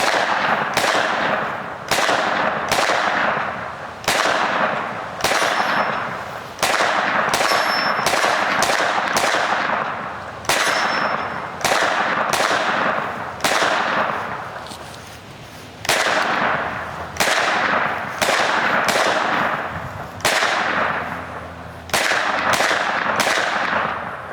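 Pistol caliber carbines fire at an outdoor shooting range: a long series of loud, sharp gunshots, some in quick strings and others spaced apart, each followed by a brief echo, with no voices.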